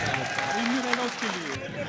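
An audience at a shayari poetry gathering claps for the poet Abrar Kashif, a brief patch of applause partly masked by a speaking voice.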